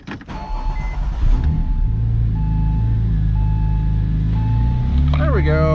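A 2004 Porsche 911 Turbo with a ripped-off exhaust pipe starts up and settles into a loud, steady idle with a droning hum, heard close by; a faint rising whine or voice comes in near the end.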